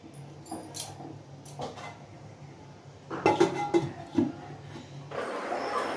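A lid goes onto a cooking pot of simmering fish curry, with a few light clinks early on and then a cluster of louder metallic clanks and rattles, followed by a soft, steady hiss.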